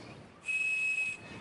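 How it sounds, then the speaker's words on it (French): A toy whistle sounds one steady, clear high tone, the kind once used to unlock the long-distance telephone network, held for under a second and then stopping abruptly. "On pouvait boucher l'un des trous de ce sifflet et quand on soufflait, on obtenait une tonalité précise."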